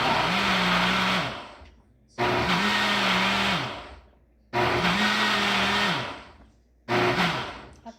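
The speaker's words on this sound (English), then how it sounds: "I'm going to put them in the blender and chop them up" A kitchen blender chops plum tomatoes in three long bursts plus a short fourth, each a loud whirring motor drone with pitch dips, separated by brief pauses of quiet.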